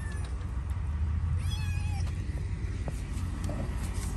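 A cat meows plaintively outdoors in the cold beside a door, one drawn-out, rising call standing out over a steady low rumble, with fainter mews around it.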